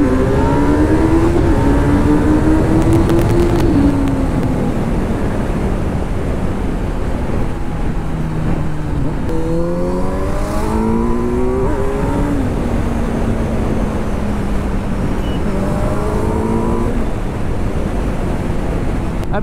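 A Kawasaki Z900 motorcycle set to rider mode with traction control off revs up for a wheelie. The engine pitch climbs, drops and climbs again in several close, loud surges, with wind rushing over the microphone.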